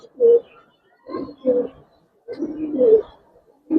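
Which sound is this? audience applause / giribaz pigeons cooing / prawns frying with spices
giribaz pigeons cooing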